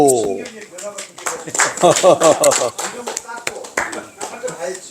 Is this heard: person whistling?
no